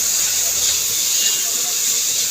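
Mango pieces frying in a hot pan give off a steady, even sizzle, a bright continuous hiss that holds without a break from start to end.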